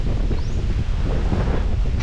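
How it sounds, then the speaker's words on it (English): Strong wind buffeting a microphone beside a lake, a loud continuous low rumble and roar that fills the whole stretch with no talking. "It's very windy. I don't even know if my windshield is helping"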